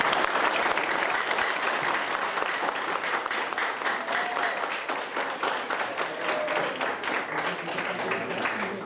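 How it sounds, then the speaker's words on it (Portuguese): An audience at a Buddhist youth congress lecture in Andradina gives a warm round of applause, continuous crowd clapping that stays fairly even and full for several seconds with no talking over it. "A salva de palmas para você."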